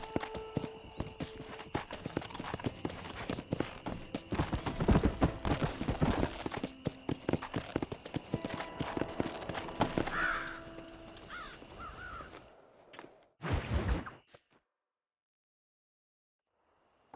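Horse hooves clip-clopping steadily in the Western video game Red Dead Redemption, a close rhythmic gallop with crows cawing in the background, ending in a short burst and then silence.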